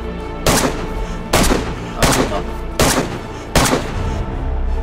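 Five loud, sharp Mosin rifle shots in the game DayZ go off close by, spaced under a second apart, each followed by a short rumbling echo over steady background noise.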